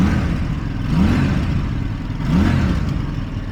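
A motorcycle engine idles and then revs up twice in short bursts, loud and close, settling back to a rumbling idle between them.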